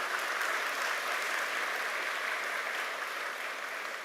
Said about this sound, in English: Give him a big applause.